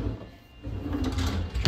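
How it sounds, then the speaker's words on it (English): A soft-closing kitchen cabinet drawer slides shut with a muted glide, ending in a gentle close and a soft bump. "Cabinetry is soft closing."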